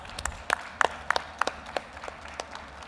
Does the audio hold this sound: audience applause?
yes